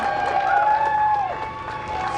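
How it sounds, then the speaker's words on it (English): Small gathering cheering and applauding as NASA astronauts walk out, with loud close clapping and whoops throughout and a sustained tonal whistle or call rising above the crowd. "Small crowd, but big cheers."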